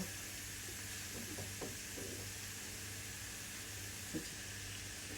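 Onion paste frying in a pan for a raw papaya and hilsa fish curry, a soft steady sizzle and hiss with a few faint stirring scrapes, quiet and continuous.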